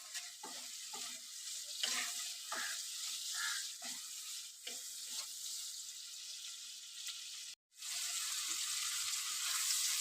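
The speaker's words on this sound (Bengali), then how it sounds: "ভালো করে আমি ভেজে নেব" Chopped jute leaves with turmeric and salt sizzle steadily in a hot pan, with scraping stir strokes throughout and a brief drop to silence near the end.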